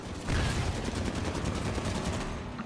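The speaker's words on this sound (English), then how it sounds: "Somebody starts firing a railgun at us because now our team's running multiple hogs." Railgun and heavy gunfire in a Halo multiplayer match, aimed at a team running several Warthog vehicles: dense, continuous rapid shooting and blasts, loud and close, with no voices.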